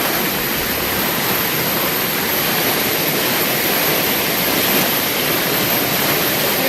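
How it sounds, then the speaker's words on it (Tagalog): Steady rushing water of a stream beside a tree, a dense even hiss and roar that stays loud and constant, close by, with no voices. "Dito lang ako sa Sapa."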